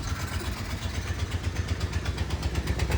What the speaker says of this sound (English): It sounds like the exhaust has a knock.